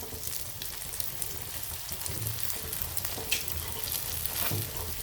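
Poha and potato patties sizzle in a pan after being flipped, a steady low crackle of frying oil with a faint rain-like hiss throughout and no talking.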